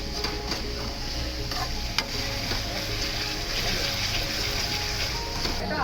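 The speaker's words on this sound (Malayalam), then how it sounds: "നമ്മൾ തക്കാളി ആദ്യം എടുത്ത് വെച്ചിരുന്ന തക്കാളിയും കൂടെ ഇതിനകത്തിട്ട് കുറച്ചായിട്ട് ചെറുതായിട്ട് വാടാൻ വേണ്ടിയിട്ടിരിക്കുകയാണ്" Tomatoes and shallots sautéing in a pan for a Kuttanadan-style duck curry give off a dense, continuous sizzle with occasional light clicks of stirring, close and loud throughout.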